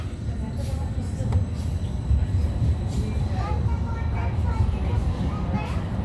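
Edinburgh tram running from the airport to Newhaven, a steady low rumble of the moving car with faint rattles and squeaks, heard from inside under people talking and a voice announcement.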